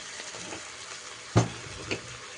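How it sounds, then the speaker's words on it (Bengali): Spice mix sautéed in a pan, a steady soft sizzle and frying hiss throughout, with a sharp scrape or clatter of a utensil near the middle and a smaller one shortly after. "দিয়ে মশলাটা কষাবো"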